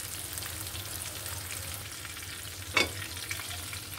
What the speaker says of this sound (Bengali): হয়ে গেছে আমার মাছ ভাজি, এখন উঠিয়ে ফেলব।